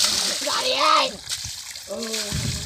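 Water splashing and sloshing as people jump and play in water at a farm, with children's voices and talk mixed over the splashes throughout.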